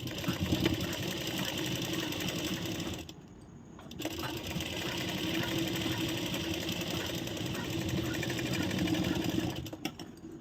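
A sewing machine runs steadily while stitching a blouse, a continuous mechanical whir that stops briefly for a moment and then resumes, close and unaccompanied by talk.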